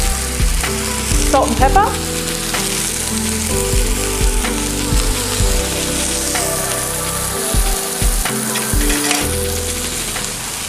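Zucchini and hard cubed tofu sizzle loudly in a hot pan, with steady crackling fry and occasional stirring scrapes throughout, while a voice speaks briefly over it.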